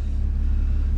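A car slowly reverses a boat trailer, giving a steady, close low engine rumble that holds an even level with no talk over it.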